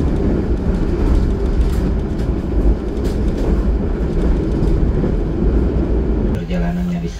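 The KA Cakrabuana passenger train rolls into Ciledug station at night, a loud continuous rumble of wheels and carriages with faint clatter, ending in a sharp squeal of brakes as it slows.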